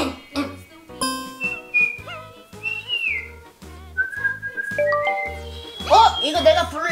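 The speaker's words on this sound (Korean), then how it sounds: "내가 휘파람 불 줄 아는데 너 한번 들어볼래?" A person whistles a tune alone in short melodic phrases, clear and close, with a voice chiming in near the end.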